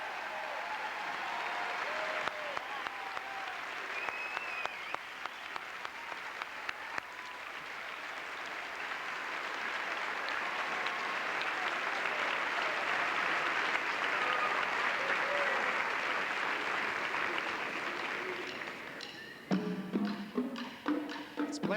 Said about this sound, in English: Let's give them a good round of applause.